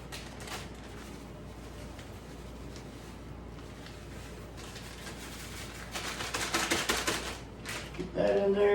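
Venison summer sausage meat mixed with a homemade mixing handle, heard as faint rhythmic churning and squelching scrapes that grow louder and busier toward the end, with a brief knock at the close.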